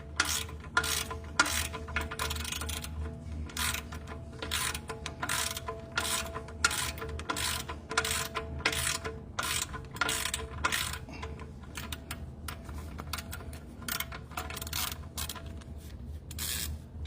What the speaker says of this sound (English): I'd rather tighten it by hand with this. My regular ratchet.